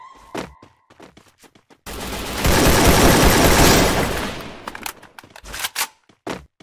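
Sustained burst of gunfire from a Free Fire battle royale match, a dense loud volley lasting a couple of seconds and fading, bracketed by scattered single shots and clicks before and after.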